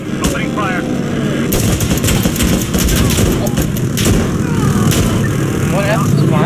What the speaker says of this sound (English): Opening fire.